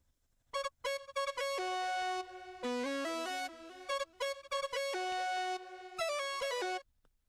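A bright synth lead plays a short melody whose notes slide smoothly in pitch between steps, clear and alone with no voices.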